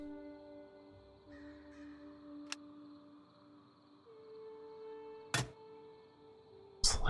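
Crows caw in the video game Earth of Oryn, several sharp calls over a quiet tonal backdrop, growing louder near the end.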